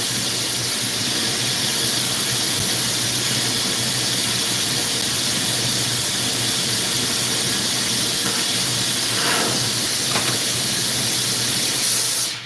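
A glassblowing torch flame during work on a no-roll party bowl, a loud steady broadband hiss that runs unbroken for the whole stretch, with faint squeals rising briefly near the end before it cuts off.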